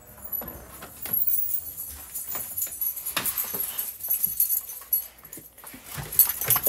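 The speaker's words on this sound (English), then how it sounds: "So you hear the puppies." Small puppies whimpering and squeaking in short, high-pitched bursts, fairly close, with some faint shuffling and clinking around them.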